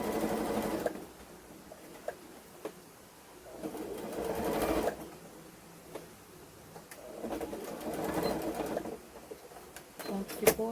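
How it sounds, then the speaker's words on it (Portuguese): Sewing machine restitching a gathered seam on fabric for a doll, running in several long whirring bursts with short pauses between them, moderately close, with someone talking quietly in the background. "Deixa eu só passar a costura aqui de novo, porque vai desmanchar."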